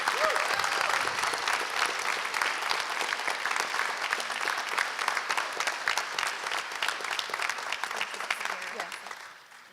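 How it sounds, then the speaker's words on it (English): A graduation audience fills the room with steady, dense applause that holds strong for nearly ten seconds before tapering off at the end, a crowd murmur mixed underneath. "please give them a round of applause"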